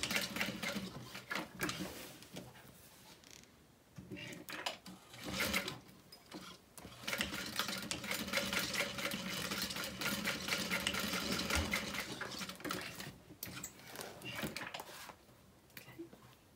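Sewing machine stitching along the top edge of a handbag, running in a near, steady whirring burst with a few brief pauses and shifts in speed.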